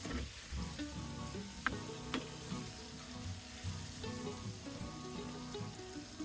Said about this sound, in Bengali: হালকা বাদামি করে আমি ভেজে নেব